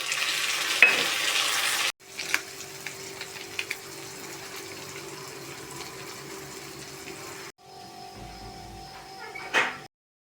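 Onions sizzle steadily in a pan with tomato added, opening with a loud splash and stir, then settling into a quieter sustained fry with occasional stirring scrapes before a brief pause and a final clatter.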